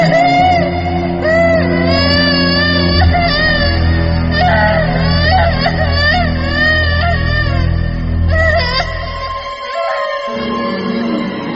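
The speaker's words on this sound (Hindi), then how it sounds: "ये किसी बच्चे के रोने की आवाज थी।" A child's crying plays as a sound effect in a Hindi horror story about a haunted well. Loud, wavering wails rise and fall over a heavy droning music bed, then the low drone cuts out near the end.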